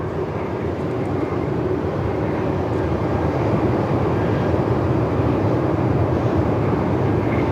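A Velocity passenger jet takes off from runway 34 at Melbourne Airport in winds over 45 knots, its engine roar a loud, steady broadband rumble mixed with wind noise, continuous and unbroken throughout.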